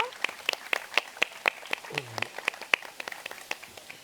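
Audience applause at an architecture and design colloquium, heard as a steady run of crisp, evenly spaced hand claps from a small crowd, with a brief murmur of voice partway through.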